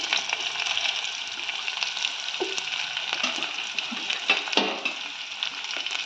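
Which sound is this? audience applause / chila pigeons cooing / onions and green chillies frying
onions and green chillies frying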